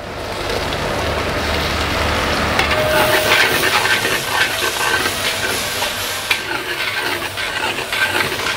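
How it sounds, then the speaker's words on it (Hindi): Tomatoes tossed into frying onions for a Punjabi bagocha sizzle loudly and steadily, a dense crackling hiss like rain, with occasional soft stirring knocks and no voices. "अब मैं इसके अंदर डालूंगा टमाटर।"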